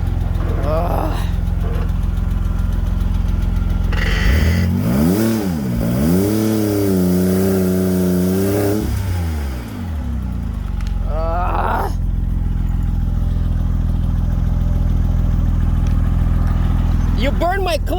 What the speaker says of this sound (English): You're burning the clutch. Look what you're doing.